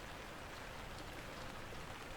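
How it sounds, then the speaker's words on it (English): Rain falls on a house in a steady, soft hiss with no breaks, faint and even, alone with no voices. "The rain hadn't stopped."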